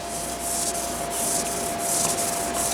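Steady, rasping friction of wood rubbing on wood from a wooden drill, pulsing in quick back-and-forth strokes, loud and close with no voices.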